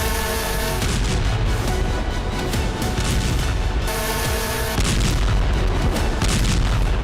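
Explosions and heavy blasts from war footage of the Russia–Ukraine conflict, loud rumbling booms rolling one after another with a continuous roar, a brief lull near the middle, then another sustained thunderous stretch.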